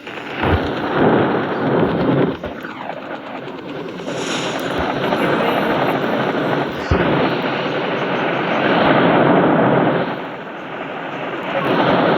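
Lightning and thunder in the video game Solar Smash, long heavy rumbling crashes with a sharp crack midway, loud and sustained, surging and easing across the whole stretch.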